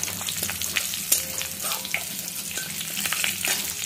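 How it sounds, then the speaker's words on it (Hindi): Whole spices temper in hot oil and are stirred, a close, steady crackling sizzle with light scraping throughout. "तो ये तेल गरम हो गया है, अब मैं इसमें ये फोरन डाल दे रही हूँ पहले अच्छे से, और इसे चला लेती हूँ एक बार।"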